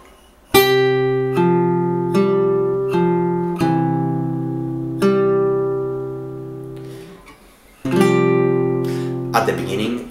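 Fingerstyle acoustic guitar plays measure 13 of a piece from Kung Fu Panda: a handful of plucked notes and chords that ring out and decay, close and clear, with a final strum and some handling noise.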